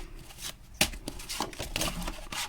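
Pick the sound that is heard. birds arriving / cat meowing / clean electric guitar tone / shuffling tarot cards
shuffling tarot cards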